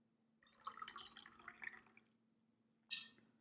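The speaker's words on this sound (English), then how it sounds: "And pour some more tea as well." Tea trickles and splashes into a cup for about a second and a half, then stops, and a single sharp clink of the cup follows a moment later, close and fairly quiet.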